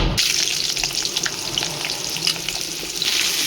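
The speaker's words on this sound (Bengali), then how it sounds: "কাঁকড়ে, আলু, পেঁয়াজ সব একসাথে তেলের ওপরে দেওয়া হয়েছে, এটা ভাজা হবে।" Crab pieces, potatoes and onions fry in hot oil with a loud, steady, crackling sizzle that fills the whole moment without pause.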